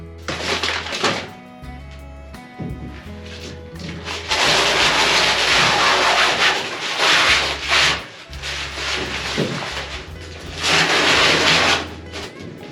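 Nylon fabric is peeled off a fresh fiberglass repair on a sailboat keel in several loud, close tearing and rasping pulls, with short pauses and dull thumps between them.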